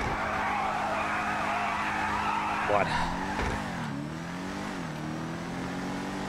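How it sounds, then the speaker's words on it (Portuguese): Revolter car in GTA V Online near an airport, engine droning loudly then skidding with a sharp tire squeal and swerving rev changes, with someone talking over it. "Vamos dar uma testada no Revolter aqui"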